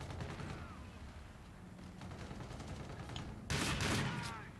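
Rapid gunfire bursts in the shooter Call of Duty: Infinite Warfare, a rattling stream of shots with a louder, heavier volley near the end, alongside game effects and no clear talk.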